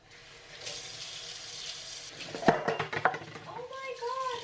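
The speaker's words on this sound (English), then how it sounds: "I'm gonna wash my hands" Tap water runs steadily into a sink as hands are washed beneath it, a soft continuous splash with brief clatters and knocks partway through, and a voice comes in near the end.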